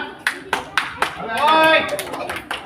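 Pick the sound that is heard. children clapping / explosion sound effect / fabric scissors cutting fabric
children clapping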